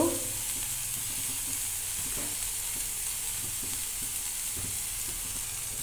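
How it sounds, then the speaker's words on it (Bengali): Spice mix with chopped chili and a little salt stirred in a frying pan for crispy chop, a steady sizzle under intermittent scraping strokes of the spoon, close and alone without voices. "তার কিছু আবারও ভালো করে মিশিয়ে নেব"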